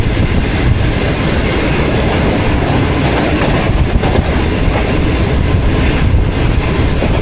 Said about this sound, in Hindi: क्रॉस कर रही है हमारी ट्रेन।